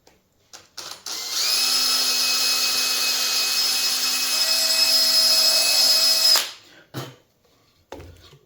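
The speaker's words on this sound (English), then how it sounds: "Then I can drill a hole in there." A power drill bores a hole through a piece of wood in a workshop for a custom sign, running steadily at high speed for about five seconds before winding down, followed by a few faint handling knocks.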